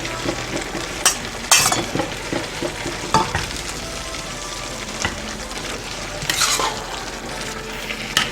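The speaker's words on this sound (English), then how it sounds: "Notice how I'm kind of folding the meat into the sauce, not stirring it" Meat folded into tomato sauce in a pan, giving steady sizzling and frying with soft stirring, scraping and a few sharp utensil clinks against the pan, with no talking.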